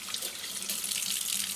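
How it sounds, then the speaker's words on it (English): A kitchen sink tap runs steadily, water splashing into the basin in a constant hiss, close and fairly quiet, with no voices. "So just get your sink going here."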